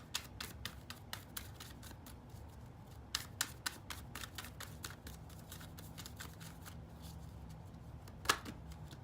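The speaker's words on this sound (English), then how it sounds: "let's finish shuffling and get you your real reading" Tarot cards are shuffled by hand in a quick, uneven flurry of soft papery flicks and snaps, close and fairly quiet, with a sharper slap near the end.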